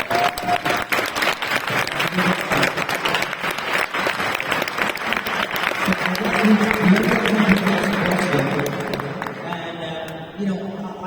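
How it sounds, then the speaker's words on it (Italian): Audience applauding at a Jim Lee showcase at Lucca Comics & Games, sustained dense clapping from a large crowd that swells and then tapers off, with voices underneath. "Un applauso"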